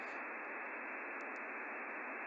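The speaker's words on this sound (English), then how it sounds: "there's a lot of interference throughout the frequency ranges." Steady radio receiver static and interference hiss fills the whole stretch as a continuous, even band of noise, with a couple of faint brief blips near the end and no voices.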